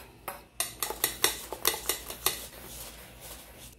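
Egg yolks are whisked in a bowl for tamagoyaki, a quick run of bright clinking taps of utensil against the bowl in an uneven rhythm, close and fairly quiet, with no talking.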